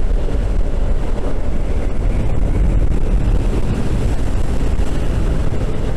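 Loud, constant wind buffets the microphone of a moving vehicle with a heavy rumbling roar at speed, with no other sounds standing out.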